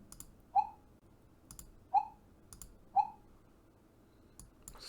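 A sound effect pitched down in Audacity: three short, quiet chirping blips spaced about a second apart over a faint hiss, with a few soft clicks in between.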